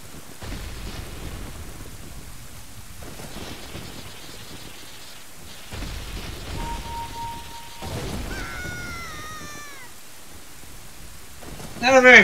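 Thunderstorm ambience from the Ocarina of Time video game, steady rain hiss with low rumbling thunder swells, a few tonal game sound effects layered in, ending in a louder crash.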